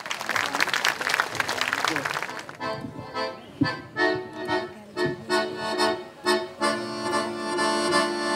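An audience at an August summer evening show applauds for a performer in a thick burst of clapping for about two seconds, then music takes over with sustained tones and rhythmic beats.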